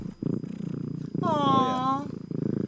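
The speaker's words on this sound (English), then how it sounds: "Yeah, you gonna purr?" A house cat purrs close up, a steady rumbling purr with a rising harmonic whine, set between stretches of a person talking softly to it.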